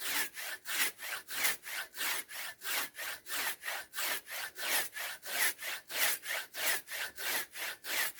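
A hand saw cuts through dry spruce wood in quick, even back-and-forth strokes, about two per second, close and steady with a rasping scrape.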